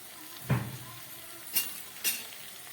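Chopped tomato goes into a pan of frying coriander and chilli powder for an okra chorchori, giving a sharp close sizzle burst followed by two quieter stir-and-scrape bursts, with no voices.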